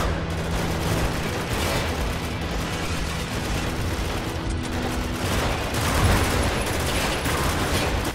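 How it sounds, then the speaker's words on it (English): Under-barrel grenade launcher fire in Spec Ops: The Line, dense continuous battle noise of gunfire and blasts, loud and sustained with no clear pauses. "I'm gonna try and shoot the turret guy with one of my under barrel grenades."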